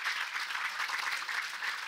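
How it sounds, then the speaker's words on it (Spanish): Audience applause for a professor after a science talk, steady dense clapping filling the whole moment at moderate volume with no voices over it. "Un aplauso, por favor"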